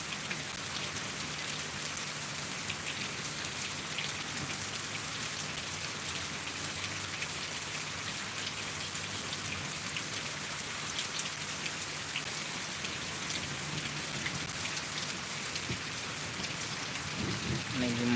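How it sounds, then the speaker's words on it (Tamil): Heavy monsoon-style rain pours down steadily on a hillside where cattle stand exposed, a dense, continuous hiss with a faint low rumble in the background. "ஹெவியாக பெஞ்சிட்ருக்கு இன்னும் நிற்கவே இல்லை மழை"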